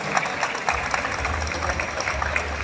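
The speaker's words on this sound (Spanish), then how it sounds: "Fuerte el aplauso para los Guásimos" Steady applause from a crowd, a dense patter of many hands clapping continuously at moderate volume.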